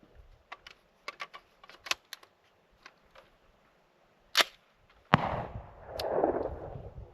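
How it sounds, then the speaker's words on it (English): Semi-automatic rifle with a HITECH Arms silencer fired outdoors in a quick string of sharp, suppressed cracks with uneven spacing, ending in a louder report and a spreading rush of noise. "And this is going to be 2 mags at fully semi-automatic with the HITECH Arms Super Selector."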